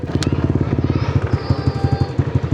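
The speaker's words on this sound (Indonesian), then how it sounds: "motornya masih idle, masih enak, nggak terlalu nyusahin" A Honda Vario motorcycle engine, a daily-use bike, idles with a steady, quick, pulsing beat up close, while a person talks over it.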